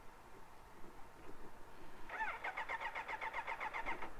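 A Kawasaki H2 superbike's starter cranks after a crash with the engine failing to catch, a rapid whirring churn lasting about two seconds over quiet background.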